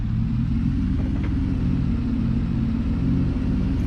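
A square-body truck with a 454 engine in a farming video game, a steady, loud, low engine rumble that holds a constant idle-like drone throughout with no other sounds.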